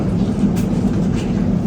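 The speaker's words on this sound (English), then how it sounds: "And then the next crew comes in on the train." Mine museum train rumbling along its track, a steady close low roar with faint rattling and no pauses.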